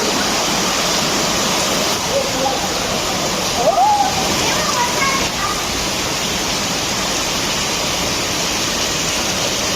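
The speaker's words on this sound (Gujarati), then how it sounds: "જો વરસાદ જોવે બે" Heavy rain pours down alongside rushing, running water in a dense, loud, continuous hiss, with a brief voice breaking through near the middle.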